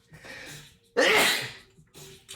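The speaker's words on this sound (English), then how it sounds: "I'm gonna sneeze." A single loud human sneeze bursts out after a short intake of breath, close to the microphone, followed by a quieter exhale.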